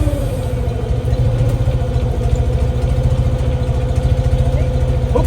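A car engine, freshly refitted after an engine change, idles steadily at close range with an even, low, throbbing pulse that continues throughout.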